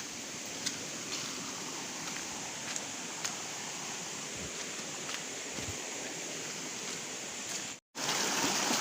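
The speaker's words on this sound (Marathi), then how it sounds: "किती छोटं मोठं झरे कसे वाहतात ते बघू शकता." Small mountain streams flowing in rural hill country, a steady soft wash of running water with faint scattered ticks, heard alone without talk before a brief dropout near the end.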